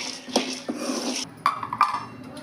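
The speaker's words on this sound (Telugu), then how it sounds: "నేనైతే ఇవి దించి మళ్ళీ వేరే ప్యాన్ పెడతాను." A frying pan lifted off a stovetop and another pan set down while cooking amaranth leaf fry, a few sharp metallic clanks and scrapes, close and clear, no talking.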